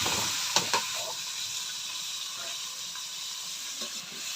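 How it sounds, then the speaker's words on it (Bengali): Chili peppers and leafy greens sizzle and hiss steadily in a hot wok in a home kitchen, a constant frying crackle with a couple of sharp pops early on, no talking. "মরিচ দিয়ে দিলাম কড়াইতে।"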